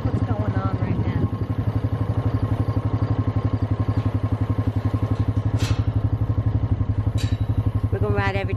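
An ATV four-wheeler rides across bumpy fields, its engine chugging in a steady, close, rapid rhythm with occasional clattering and faint chirps over it.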